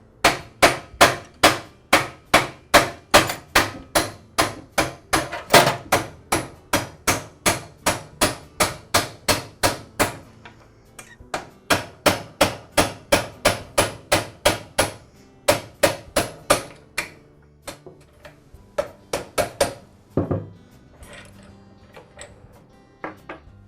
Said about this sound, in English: I'll go ahead and hammer the pivot pin out of the saw. I'll do that using a punch and a hammer.